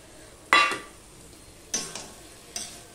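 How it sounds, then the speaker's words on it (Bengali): Fried okra tipped into sizzling spice paste in a wok and stirred, three sharp spatula scrapes and clatters over a quiet background sizzle. "এই অবস্থায় ভাজা ভেন্ডিগুলো দিয়ে দিলাম,"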